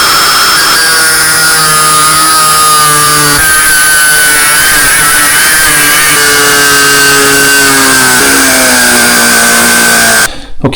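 A power tool cuts and grinds a steel brake bracket for a Vespa PX hydraulic front brake conversion, a loud steady high-pitched whine with shifting tone under load that cuts off abruptly near the end.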